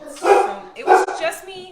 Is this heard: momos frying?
no